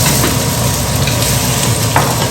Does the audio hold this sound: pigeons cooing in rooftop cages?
no